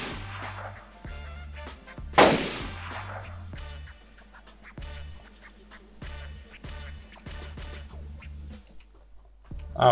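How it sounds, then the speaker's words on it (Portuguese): A gunshot cracks once in the video game DayZ on the Chernarus map, a sharp loud burst standing out amid rhythmic game sounds and quieter background effects. "é um tiro"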